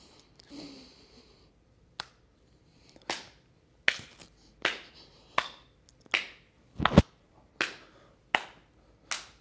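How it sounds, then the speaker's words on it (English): During tai chi, hands clap behind the back in a slow, evenly spaced series of about ten sharp, moderately close claps, each a single crisp smack with a short decay and quiet between them. "reach up, touch your hands on top, and then clap your hands behind your back"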